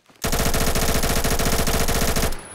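Sustained rapid automatic gunfire from a shooting video game, one loud, close, continuous burst of about two seconds with no talk.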